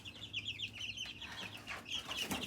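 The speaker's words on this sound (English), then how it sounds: "So Cole loves to come out here and look at the chicks" Chicks peep in high, rapid chirps inside a backyard coop, with soft clucking from fowl mixed in, steady and fairly close without talk.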